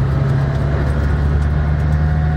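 A McLaren Senna's engine accelerating hard, a loud, steady low drone filling the whole stretch, heard from close by without voices.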